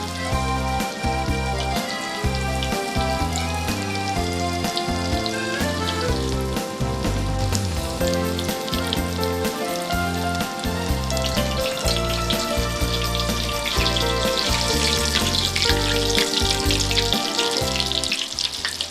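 Stuffed sardines frying in hot oil, a dense, steady sizzle and crackle that continues without pause throughout, loud and close with no talking.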